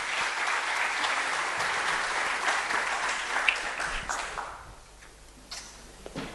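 An audience at a financial-freedom talk gives a speaker strong applause, dense clapping that holds steady for about four seconds and then thins to a few scattered claps.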